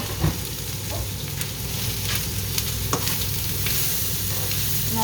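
Tomatoes go into a sizzling pan, giving a close, crackling fry with stirring scrapes and a few sharp clatters, and no voices.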